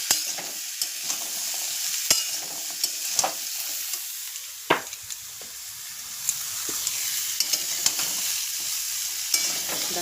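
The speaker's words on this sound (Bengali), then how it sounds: "এবার এটা ভালো করে নাড়তে হবে।" Food frying in a pan is stirred with a utensil: a soft, continuous sizzle under sharp, irregular clinks and scrapes against the pan.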